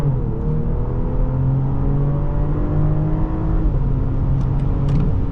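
A 2024 BMW X5 xDrive40i engine revs hard and pulls in a sustained launch-mode acceleration, the drone rising steadily and loud close by, with no voices.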